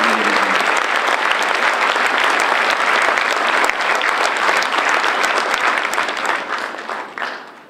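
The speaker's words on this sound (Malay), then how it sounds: "mari kita berikan tepukan paling gemuruh pada tetamu kehormat kita yang amat berbahagia, Tun Dr. Mahathir." Sustained applause from an audience at a talk event welcoming Tun Dr. Mahathir as guest of honour, a dense, loud clapping crowd that holds steady before tapering off near the end.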